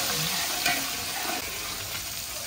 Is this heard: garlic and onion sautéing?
yes